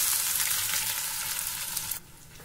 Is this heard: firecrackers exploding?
no